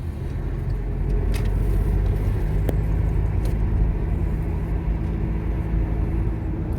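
Interior of a car driving on a road, a steady low engine and road rumble throughout with a few faint clicks, no voices.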